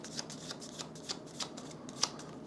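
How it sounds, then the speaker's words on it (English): Playing cards for a solo tabletop game are riffled and shuffled up close, a quick series of crisp, fluttering snaps and ticks at a soft level with no talking. "So we flip this, we shuffle this"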